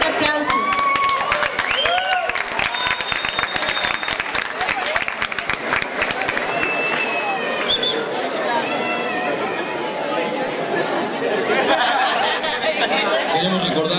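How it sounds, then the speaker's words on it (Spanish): A crowd applauds pageant contestants as they walk the runway in evening gowns, with dense, sustained clapping mixed with lively chatter and occasional cheers, loud and close throughout. "Un fuerte aplauso."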